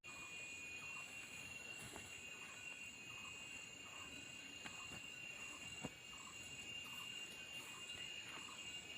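Crickets gather around a lamp at night and chirp steadily in regular, repeating pulses over a constant high insect drone. The sound is faint and distant, with no voices.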